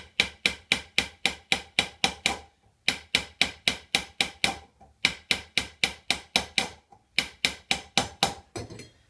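Rapid, bright metallic hammer taps ring out in quick even runs, pausing briefly between bursts, close and crisp, planishing a hand-raised silver goblet.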